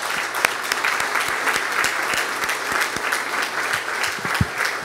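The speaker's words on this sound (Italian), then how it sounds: "Io farei un applauso" Steady applause from an audience at a national civil protection authorities conference in Italy, with distinct individual claps standing out close by over a dense, even wash of clapping.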